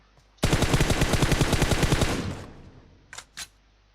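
A long burst of rapid automatic gunfire in the PUBG Mobile game, loud and close for about two seconds, fading out, followed by two short separate shots.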